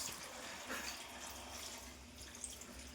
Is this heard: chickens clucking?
no